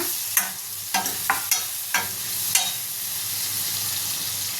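Drumstick pieces and tomato stirred in a frying pan, with a steady sizzle of hot oil broken by about seven sharp scrapes of the spoon against the pan, close and loud.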